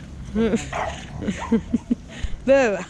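A puppy yips, whimpers and gives small high barks, short and close, mixed with a voice speaking Italian.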